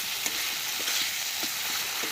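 Spice paste (masala) for a Foli fish curry fries in oil over a clay stove outdoors, giving a soft, even sizzle with faint intermittent stirring scrapes and no talking.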